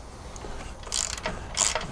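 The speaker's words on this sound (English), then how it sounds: "You're gonna put your socket on the bottom." A socket wrench ratchets on a bolt of a boat trailer winch, a few short metallic clicking bursts up close with brief gaps between them.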